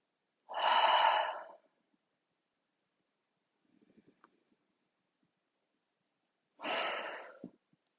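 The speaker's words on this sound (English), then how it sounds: "inhale through your nose. And exhale, sigh your breath away." Two long, breathy exhales, loud and close, are separated by a quiet pause with a faint soft inhale through the nose during a relaxed breathing exercise.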